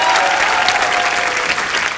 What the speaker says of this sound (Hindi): जोरदार तालियां एक बार राघव के लिए।